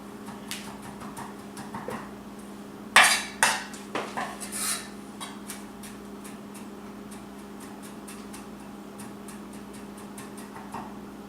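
A knife chopping garlic finely on a board for pico de gallo, a quick burst of crisp knocks followed by lighter, steady taps, close, over a constant low hum, with no talk.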